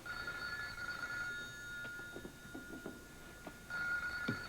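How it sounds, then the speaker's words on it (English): A telephone rings repeatedly in an indoor scene from a 1986 Port Charles drama, steady electronic trills at moderate volume with faint background noise and no talk. "Can I answer that phone call, please?"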